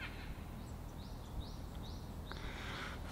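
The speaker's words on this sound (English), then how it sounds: "I don't know if you can hear the birds singing" Birds singing outdoors behind a university dormitory in South Korea, a few soft rising chirps repeating at a distance over steady background hum.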